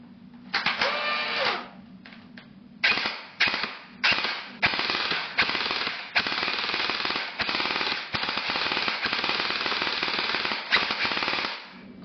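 Firecow M249 SAW gel blaster fires in repeated loud mechanical bursts, short volleys at first, then long sustained rattling automatic fire close by, with no talking.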